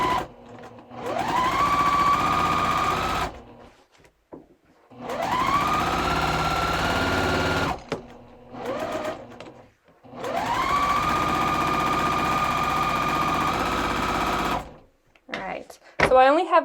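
Sewing machine chain-piecing quilt blocks in steady runs, its motor whirring up and holding for several seconds at a time, stopping between blocks with brief pauses.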